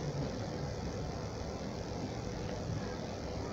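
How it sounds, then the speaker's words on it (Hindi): A car engine hums steadily while the vehicle is driven in the video game PUBG Mobile Lite, a low, continuous drone at moderate level with no speech over it. "देख रहा हूँ मैं हवाओं में चला रहा हूँ गाड़ी को"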